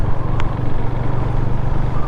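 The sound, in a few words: KTM Duke 390 motorcycle engine idling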